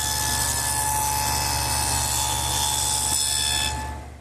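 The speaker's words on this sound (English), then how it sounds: "to make that dado, I've just widened the dado head cutter to 1/2 inch, and I'm ready to run the sides through" A table saw carrying a dado head cutter widened to 1/2 inch cuts a dado through wooden sides, a loud sustained whine and roar that holds steady before winding down at the close.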